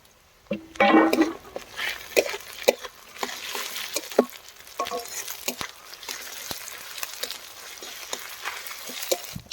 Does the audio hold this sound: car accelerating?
no